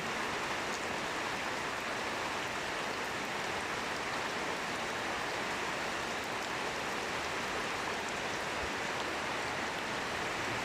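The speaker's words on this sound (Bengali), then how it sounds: "বাতাস নাই, শুধু বৃষ্টি।" Steady, even rain falls at night with no wind over a village in Paruliya union, Kashiani, Gopalganj, hissing continuously and evenly around the listener without any voices.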